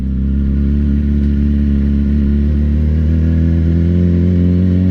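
Yamaha R6 sport motorcycle revving in loose sand off-road, a loud, close, continuous engine drone with a steady rumbling note and a slight rise in pitch toward the end.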